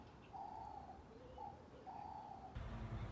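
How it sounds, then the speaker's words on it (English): Pigeons cooing outdoors in Portland, Oregon, with three soft, drawn-out coos in a steady rhythm over a low background rumble that thickens near the end. "The pigeons are joining me in saying happy birthday to Stephanie."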